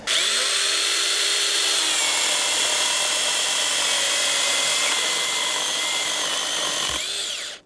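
A Volpi KVS5500 cordless chainsaw runs continuously at high, steady speed as it cuts through wood, loud and close, then winds down at the end.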